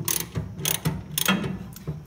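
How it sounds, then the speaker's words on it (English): A ratchet fitted with a 9/16 inch socket loosens a nut on a New Holland baler. Close, crisp clicking comes in several quick bursts of ratcheting strokes, with no talk. "So what we gotta do to adjust this is loosen this nut right here."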